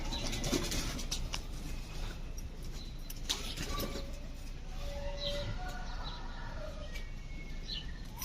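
Homing pigeons try to land, with soft coos, brief wing flaps and scattered chirps over a steady outdoor background, some calls close and others farther away.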